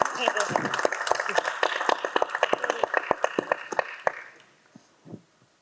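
An audience claps at a Punjabi film cast event, a burst of quick close hand claps that thins out and fades to a few scattered claps.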